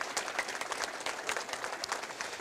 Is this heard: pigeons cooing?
no